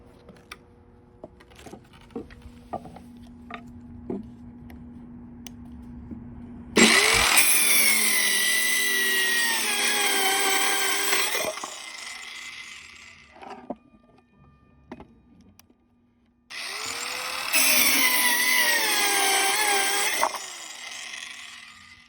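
A small SeeSii circular saw spins up and cuts through 3/4 inch pressure treated wood in two long, loud, close cuts with a high whining roar, with quiet handling clicks before and between them.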